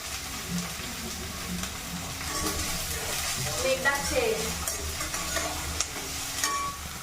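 Chopped onions fry in white oil in a pan, a steady close sizzle and hiss with occasional stirring scrapes and clinks, while someone talks quietly over the cooking.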